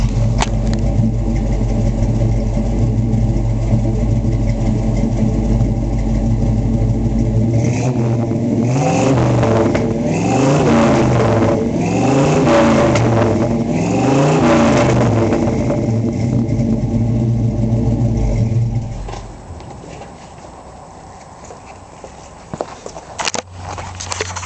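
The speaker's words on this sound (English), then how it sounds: "As you can hear, really healthy motor in this Bronco." A restored 1971 Ford Bronco's original V8 idles loudly up close, then revs in several rising and falling bursts before dropping back to a quieter idle, with no talking.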